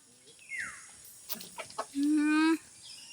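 A fighting rooster on a backyard farm gives short clucks and a sustained cry near the mic, with a voice talking around it.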